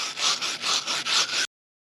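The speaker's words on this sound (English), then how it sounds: "I'll just scratch around the side a bit with this, maybe a screwdriver, a paint scraper" A scraper works dirt off the side of an old 1937 Minneapolis Moline tractor engine, making about six rhythmic, close rasping strokes that stop abruptly into silence.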